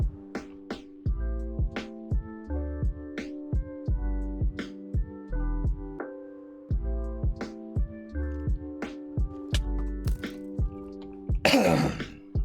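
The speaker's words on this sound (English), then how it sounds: "I've got like a cough in my throat." A man repeatedly clears his throat and coughs, a series of short close bursts spread over a steady tonal background hum, with a loud sharp cough near the end.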